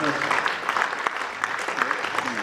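An audience at a folk accordion band festival applauds to welcome an arriving ensemble, a dense, steady clapping from a crowd nearby with a voice speaking over it.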